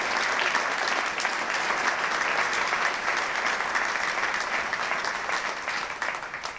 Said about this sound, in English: I think we need to give the dean and all the faculty and staff a great round of applause for doing that.